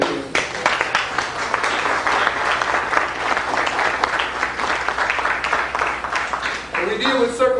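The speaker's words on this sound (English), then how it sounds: "everybody give a hand to Brother Nakeem Bey right here." Audience applause at a lecture hall talk, steady clapping from many hands throughout, with a voice speaking briefly near the end.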